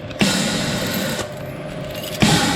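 A key turns in the lock of an electrical control cabinet door, giving three sharp metallic clicks, close up and with steady machine hum in the background.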